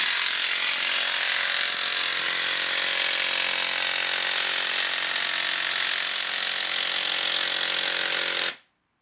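A Makita 40V impact wrench drives a 100mm earth auger into the ground, giving a loud, continuous, rapid hammering rattle that runs steadily and then stops abruptly.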